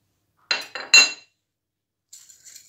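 A spoon clinks against a glass or bowl while stirring dry yeast and two tablespoons of sugar into lukewarm water, three quick close bursts of tapping followed by a pause, then fainter, lighter clinks near the end.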